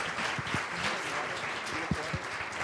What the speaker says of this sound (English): give Barb a great big round of applause